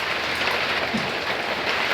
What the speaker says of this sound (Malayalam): മഴ അതാക്കണ ചാറി ചാറി ചാറി ചാറി പെയ്യുന്നുണ്ട്